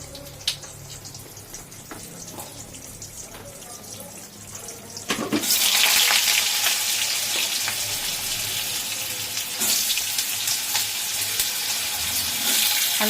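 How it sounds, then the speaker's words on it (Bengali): Potatoes hit a hot pan with black cumin, setting off a sudden loud sizzle that holds steady and crackling, close up. A quieter stretch of faint kitchen noise comes before it. "আলুটা দিয়ে এবার হালকা করে ভাজবে"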